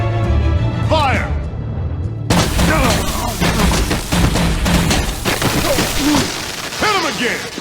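Video game gunfire from Batman: The Enemy Within, a loud burst of rapid shots and booms that starts abruptly and keeps going under shouting voices.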